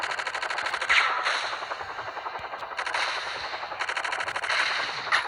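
Heavy machine-gun fire from a gunship in Gunship Strike while attacking a tank, loud rapid bursts in three long stretches separated by short pauses, with explosions underneath.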